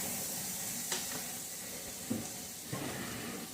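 Onions fry quietly in a pan for ratatouille, a faint even hiss with a few small pops and clicks from the utensil, heard alone without talk.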